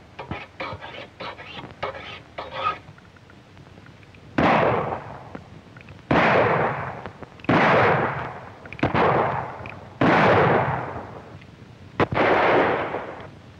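Gunshots from a 1935 western film ring out in a sharp series of about six loud reports, each with a long echoing decay, following a stretch of softer rapid crackling at the start.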